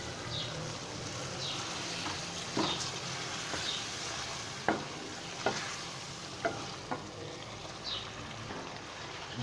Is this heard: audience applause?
no